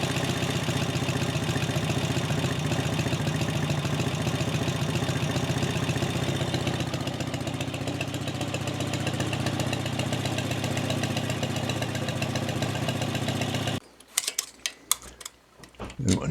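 A freshly rebuilt Norton Pre Commando twin motorcycle engine idles with a steady, ticking mechanical beat, held close and constant for a long stretch before cutting off abruptly, leaving brief clicks and a faint voice afterward.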